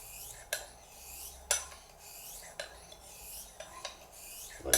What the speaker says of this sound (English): Lovely noise on the 2000 I find. You can feel it grinding, but in a way it almost starts polishing good steel.